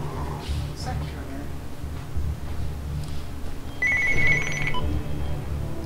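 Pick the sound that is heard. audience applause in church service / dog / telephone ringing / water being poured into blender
telephone ringing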